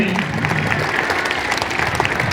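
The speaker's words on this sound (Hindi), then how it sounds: "इनके लिए भी हम लोग जोरदार ताली देंगे" Loud, sustained applause from a large crowd at a public gathering in Lohardaga, a dense continuous roar of many hands clapping with a faint murmur of voices underneath.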